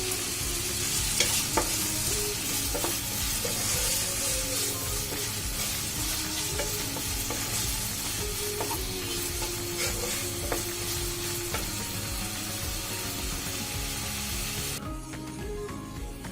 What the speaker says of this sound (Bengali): আমি আলুটা প্রায় 2 মিনিটের মতো ভেজে নিয়েছি।